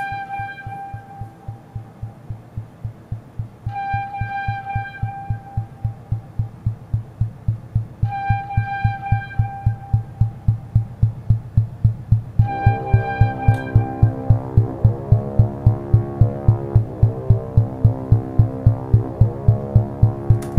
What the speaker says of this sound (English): And then we reintroduced the driving pulse heartbeat.